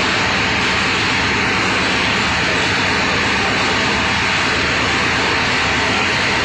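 Two main diesel engines run in a ship's engine room, giving a loud, steady, dense roar that fills the space without a break from start to finish.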